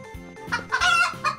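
Chicken clucks from the VR game Crystal Raiders, a short burst of several bright, close clucks rising to a louder squawk, heard alone without talk.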